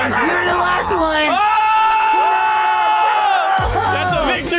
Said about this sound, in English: That's a victory screech.